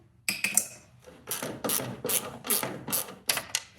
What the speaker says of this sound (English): but I can get it done with a ratchet